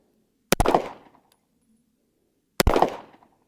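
Two sharp shots from a Wilson Combat Division 77 pistol ring out about two seconds apart, each loud and close with a short ringing decay as the rounds hit steel targets.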